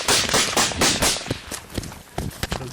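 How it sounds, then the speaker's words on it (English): Gunfire cracks sharply during a combat engagement with the Taliban, a cluster of loud snapping reports at first, then scattered single cracks further off. "you heard that crack, crack, that 2 rounds come in"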